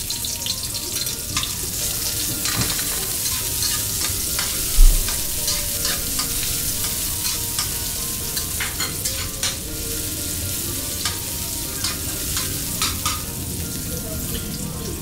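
Onions sautéing in a hot pan for a sizzling-style dish, a loud, continuous close sizzle with stirring scrapes and one brief knock, no talking.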